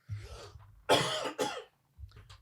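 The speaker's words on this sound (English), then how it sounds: "Cut that cough out." A few sharp, close coughs in quick succession, followed by a short pause and a quieter final cough.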